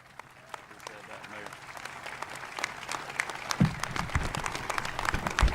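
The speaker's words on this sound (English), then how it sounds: "Please get on your feet and give a rousing round of applause" A crowd at an outdoor ribbon-cutting ceremony for a public safety training center applauds the governor, the clapping starting faint and scattered and building louder and denser, with some voices mixed in toward the end.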